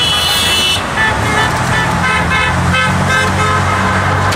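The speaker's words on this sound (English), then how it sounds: "Honk if you can't afford gas." Car horns honk in passing roadside traffic at a rally, with a long, steady horn blast at the start followed by shorter toots over the constant rumble of passing vehicles.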